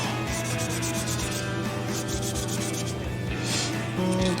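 400-grit sandpaper rubs across the surface of a 1/100 scale VOLKS IMS Knight of Gold plastic model kit, making a continuous close scratchy swish with rhythmic back-and-forth strokes.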